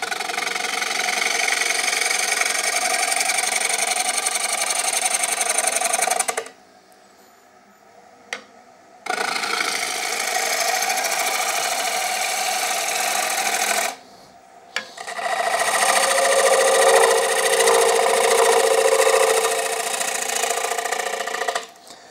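A woodturning lathe runs steadily while a bowl blank is trued up, a continuous rasping hum broken by two brief pauses before resuming loud and close.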